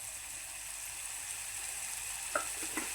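Ginger-garlic paste frying in a pan while egg masala is being made gives a soft, steady sizzle. A few brief scraping clinks from stirring come near the end, with no talking.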